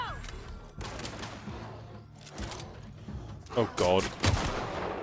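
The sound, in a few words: gunshots from the video game The Outer Worlds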